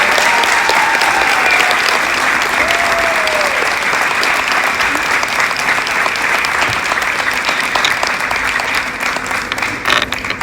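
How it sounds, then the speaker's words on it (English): Loud, sustained audience applause at a college letter-of-intent signing ceremony for new athletes, dense clapping from a crowd, with a faint whistle early on, tapering slightly toward the end. "And join me in one last round of applause for Tammy U's newest Dust Devils, Chino, Omar, and Isaac."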